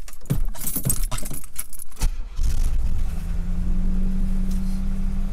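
Classic car engine starting up cold: keys jangle and scrape at first, then the engine catches and settles into a steady, close idle with a low droning hum.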